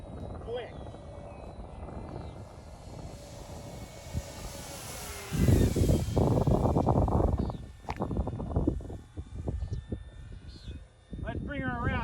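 An E-flite Draco radio-controlled airplane flies with a steady engine drone that rises and falls as it passes, heard outdoors under people talking.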